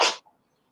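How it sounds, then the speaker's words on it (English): A cat gives a single short, breathy sneeze, close and quick, followed by silence. "I love a cat sneeze."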